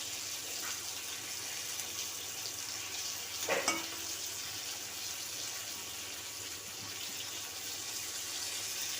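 Home-grown flat beans fry in a pan with a soft, continuous sizzle, and a brief louder clatter or stir breaks in partway through.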